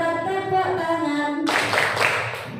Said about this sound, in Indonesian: Generasi literat, tepuk tangan.